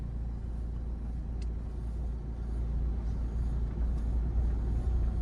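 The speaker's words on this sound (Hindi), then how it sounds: "रिवर्स गियर डालो, चलो अब सीधा सीधा पहले बैक में जाओ" A learner's car slowly reversing in reverse gear, a low steady engine rumble and drone from inside the cabin, faintly swelling toward the end, with no other distinct sounds.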